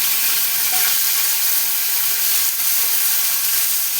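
Chopped tomato fries in hot spiced oil in a pan, giving a steady, dense, bright sizzle that holds evenly throughout without talk.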